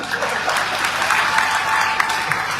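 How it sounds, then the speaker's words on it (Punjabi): An audience at a political stage event claps loudly and steadily, a dense crackle of applause close and continuous throughout. "ਪਟਕਾ ਕੇ ਤਾੜੀ ਮਾਰੋ"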